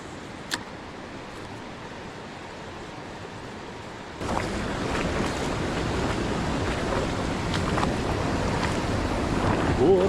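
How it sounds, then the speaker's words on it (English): Fast-moving water in a small Scottish salmon river rushes in a steady broadband roar, with a faint splash early on and the flow growing louder and closer after about four seconds, mixed with wind buffeting. "Just fast moving water."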